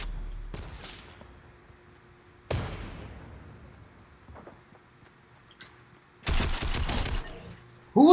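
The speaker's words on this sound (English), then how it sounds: "Who was he even shooting at?" Video game gunfire rings out as sharp, sudden cracks with ringing tails, two isolated shots, then a dense rapid burst, separated by near silence.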